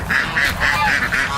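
Ducks on a farm in El Monteon, Nayarit, Mexico, quack close by in a quick series of about six loud nasal calls.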